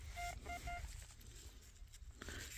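A metal detector gives three short, evenly spaced electronic beeps, faint against a low background hum, then falls quiet.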